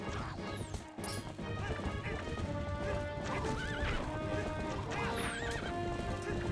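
A horse neighs and whinnies amid clip-clopping hooves and crashing hits during mounted combat in the video game Zelda Twilight Princess HD, loud and busy throughout.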